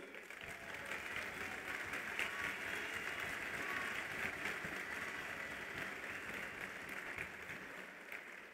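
Audience at a Partido Revolucionario Institucional event in Mexico giving sustained applause, dense steady clapping from a large crowd heard at moderate distance for several seconds.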